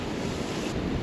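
Sea swells and surf roll steadily along the Northumberland coast on a March fishing trip, a continuous close, full wash of breaking waves mixed with gusty wind buffeting the microphone.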